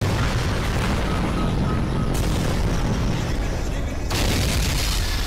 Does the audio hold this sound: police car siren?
no